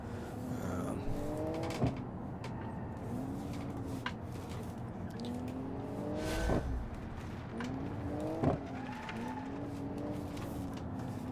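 A Porsche 911-style touring car in the BeamNG driving game revs up through the gears, its engine pitch climbing and dropping at each shift. Brief tire squeals punctuate the steady drive, with no talk over it.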